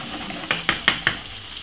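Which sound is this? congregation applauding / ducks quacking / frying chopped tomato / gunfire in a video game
frying chopped tomato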